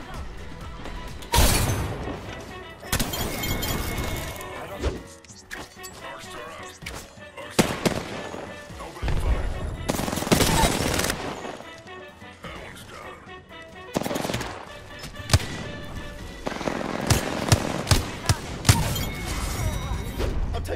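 Triple Take sniper rifle fire in Apex Legends, heard as loud separate blasts and bursts spread across the clip, mixed with other gunfire, explosions and game effects.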